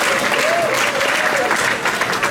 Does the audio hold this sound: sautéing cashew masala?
no